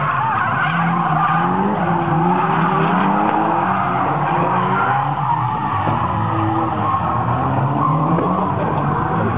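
Drift car at a Juneda drift event tests a newly fitted brake, tires skidding and squealing over a continuous, loud engine roar with crowd ambience, sustained for the whole stretch.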